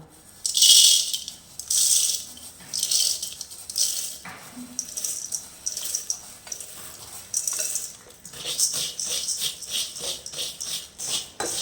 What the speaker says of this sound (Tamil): இப்போ கொஞ்சம் கொஞ்சமாக அந்த அவுள் பொரியை நம்ம வறுத்து எடுத்துக்கலாம்